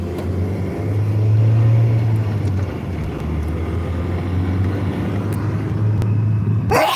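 A car engine under light throttle as the clutch is gradually released, a low steady rumble with faint vibration, ending in a sharp rattling clatter.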